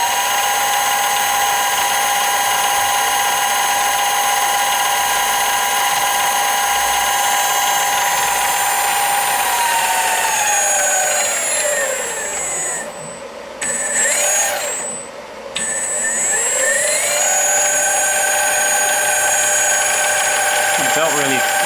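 A mini lathe converted to a brushless motor runs at its low speed setting, a loud steady whine with belt and pinion hum that dips briefly twice before resuming.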